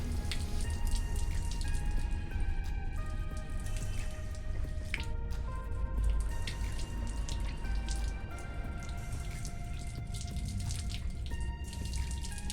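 Water running and dripping steadily into a sink during a handwashing and mouth-rinsing routine, a continuous close trickle with scattered drops and no talk.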